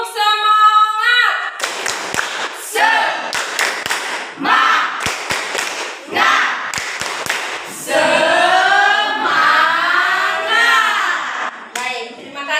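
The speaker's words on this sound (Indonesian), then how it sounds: "Tepuk semangat." A group of children performing a rhythmic spirit clap in a classroom, sharp clap bursts in a patterned beat alternating with loud chanted voices.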